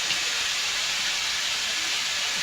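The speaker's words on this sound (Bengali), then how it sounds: "ভেজে নেবো এটা।" Star fruit pieces with five-spice seeds, salt and turmeric frying in a pan, giving a steady, even, loud sizzling hiss with no break.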